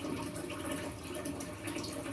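A leaking toilet with its flush button stuck down, water running continuously into the bowl as a quiet, steady hiss and trickle with no pause.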